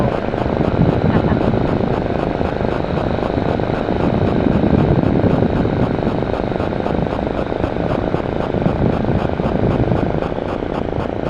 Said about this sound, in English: I'm just going to actually give it a little throttle